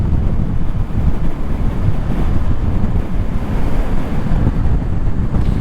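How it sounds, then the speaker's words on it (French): Heavy wind roars steadily across the microphone while riding a Honda CL500 scrambler motorcycle on a city ring road, with constant loud buffeting and no clear engine note. "avec un peu de vent sur le périph'"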